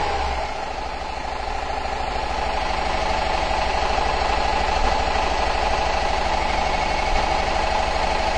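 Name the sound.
Subaru engine running with misfire, held at about 1,500 RPM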